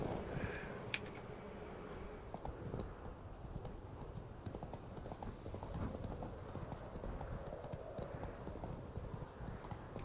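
Hooves of Roach, a horse in The Witcher 3, clip-clop in a steady continuous rhythm throughout, fairly loud and close, with a faint soft voice briefly in the mix.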